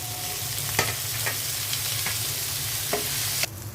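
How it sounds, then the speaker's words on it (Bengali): Pointed gourd, potato and tomato fry with onions in a pan, sizzling steadily while a utensil stirs and clacks against the pot every half second or so. "পটল, আলু আর টমেটো দিয়ে দিচ্ছি পেঁয়াজের মধ্যে।"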